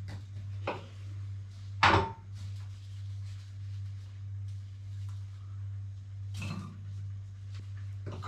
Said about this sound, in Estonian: Panen siis 3 küüslaugu küünt. Hakin ka peeneks ära